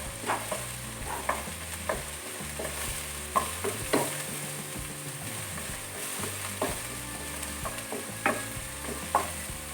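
Green chillies frying with onion and tomato in a pan, steady sizzling under repeated stirring and scraping of a utensil, close and continuous.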